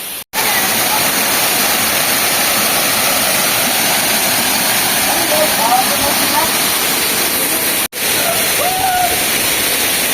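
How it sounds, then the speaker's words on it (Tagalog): Batlag Falls in Tanay, Rizal roars as a loud, continuous rush of falling water close by, broken by two brief cuts, with faint voices barely rising above it. "we're here at Batlag Falls."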